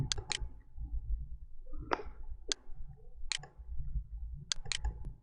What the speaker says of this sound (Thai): คลิกปุ่มส่งงานเพื่อทำการส่งงาน